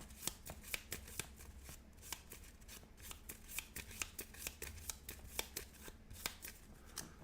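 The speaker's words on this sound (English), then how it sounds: "Shuffle that into my deck." Marvel Champions playing cards are shuffled into a deck, giving quick crisp riffling clicks in an uneven rhythm, close and fairly quiet, with no talking.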